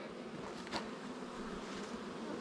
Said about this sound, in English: these bees ain't bad here.